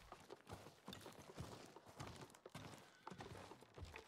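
A horse in the video game Ghost of Tsushima walks along with steady clip-clop hoofbeats, fairly quiet and even in rhythm.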